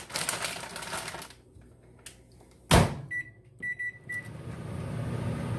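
A microwave oven heating frozen broccoli for a casserole gets its door shut with a sharp thud, then a few short electronic beeps sound as it is restarted, before the steady hum of it running picks up.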